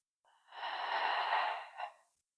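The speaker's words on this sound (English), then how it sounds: "I'm just gently blowing out of the mouth this morning" A single slow, soft exhale through the mouth during a calm morning breathing exercise, a close, breathy rush that swells and fades over about two seconds.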